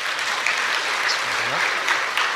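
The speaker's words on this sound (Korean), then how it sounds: "위로의 박수 한번 드리겠습니다" Steady applause from a church congregation during a worship service, a continuous patter of many hands clapping throughout.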